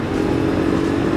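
A KTM 390 Adventure motorcycle cruises in fourth gear, giving a steady, loud engine drone with a low, even chug and wind rush and no change in pace.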